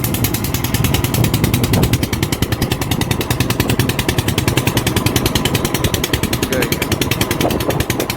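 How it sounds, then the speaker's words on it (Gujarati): A boat engine runs at full throttle in strong wind, a loud, rapid, steady putter and roar that fills the whole stretch without a break. "અત્યારે એટલો બધો પવન છે અને બોટના એન્જિનનો પણ ફૂલ અવાજ આવે છે"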